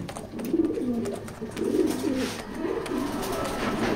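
A pair of original racer pigeons coo with soft, low, rolling calls that repeat in a loose rhythm. They sound close and steady, with no talk over them.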